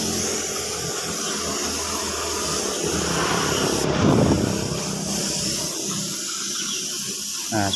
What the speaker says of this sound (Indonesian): Ini kita semproti clear seperti ini